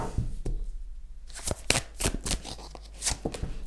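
Tarot-style cards riffled and shuffled for a card reading, a quiet stretch giving way to quick papery flutters and snaps that come in bursts near the microphone.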